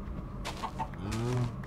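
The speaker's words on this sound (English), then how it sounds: "Hey, chicken." Chicken clucking in the Minecraft modpack Feed The Beast, a short run of soft clucks over continuous game background noise, fairly quiet and close.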